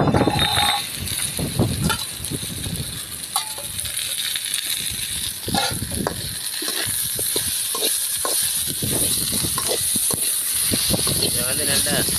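Dried fish frying in a pan with tomato and onion gives a steady, close sizzling hiss with small crackles and occasional clinks, running throughout at moderate level.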